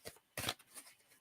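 Tarot cards are picked up and shuffled, a short, soft riffle close by with a brief louder burst in the middle.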